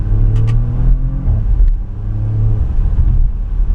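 A Porsche Macan Turbo accelerates hard in Sport mode, its engine note climbing in a close, loud, continuous roar that dips briefly between gears.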